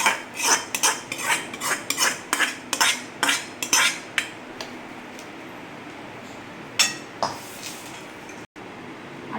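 Fried dry fruits tipped and scraped into a large kadhai, a run of rhythmic metallic scrapes and clinks of a spoon against the pan that thins out to a few isolated knocks.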